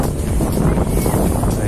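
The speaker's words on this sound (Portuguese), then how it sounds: "A dificuldade, gente, é mais o vento." Strong, steady wind buffeting a microphone on a beach during a drone flight, a constant loud roar with no pauses and no talking.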